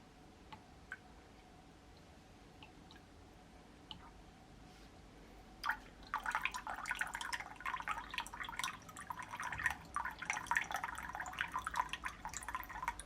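Water drips and trickles from a 3-stage reverse osmosis filter with no tank in a quiet room, first a few sparse drops, then a steadier patter of irregular drips and splashes for the rest.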